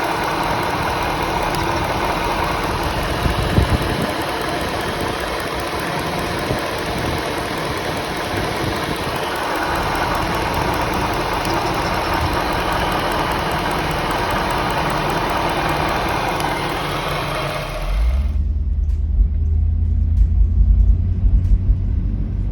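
A Jaguar car engine idles steadily with an uneven, stumbling hesitation, then cuts to a deeper, louder rumble near the end.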